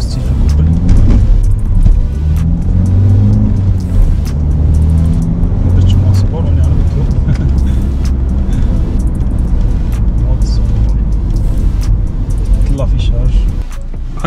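A 2020 Renault Captur with a 1.5 engine accelerates hard, its engine droning loudly and rising in pitch from inside the cabin, with road noise building steadily throughout.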